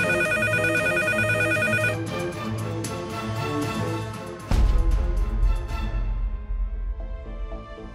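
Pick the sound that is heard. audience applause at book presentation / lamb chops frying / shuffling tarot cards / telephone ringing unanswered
telephone ringing unanswered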